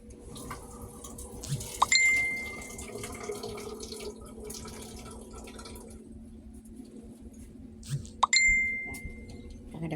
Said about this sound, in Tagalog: So, butangan na tubig guys.